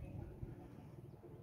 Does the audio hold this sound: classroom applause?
no